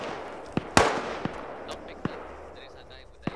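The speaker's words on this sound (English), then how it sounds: "you do hear the SVD gunner, I think, shooting at these guys back here" SVD sniper rifle fire in a military shooter game: sharp, separate cracks at irregular intervals, one louder shot standing out among fainter distant reports over a low background hum.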